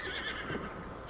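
Horse whinnying in the video game The Legend of Zelda: Breath of the Wild, a short quiet neigh with light hoof clip-clop under it, heard alone with no speech.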